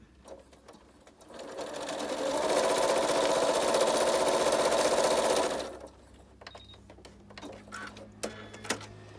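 A sewing machine stitches a quilt block seam in one steady run of about three seconds, rising to a loud, close whirr and then stopping, followed by small handling clicks and taps.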